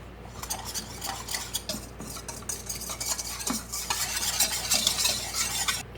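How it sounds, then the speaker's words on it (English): A whisk stirs water and cornstarch in a bowl, producing rapid rhythmic clinking and scraping against the bowl that grows busier toward the end, close and clear with no talk. "I'm going to combine my water and cornstarch, and I'm going to use a whisk and mix that up real well"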